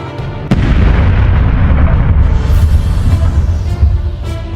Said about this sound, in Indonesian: bom atom dijatuhkan di kota Hiroshima